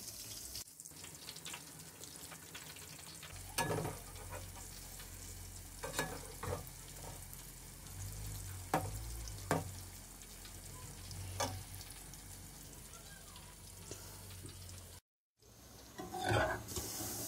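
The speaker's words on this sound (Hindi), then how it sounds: "जब ये एक तरफ से अच्छे से फ्राई हो जाएंगे, हम इसकी साइड फिर चेंज करेंगे" Shahjahani pakoras frying in oil, a steady close sizzle with occasional sharp knocks and spoon clatters, a brief dropout near the end, then the sizzling resumes, with no talking.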